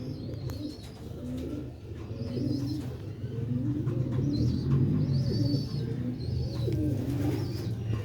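High-flying pigeons of an old breed kept in Sialkot coo repeatedly in soft, rolling phrases close by, with faint chirps and background noise.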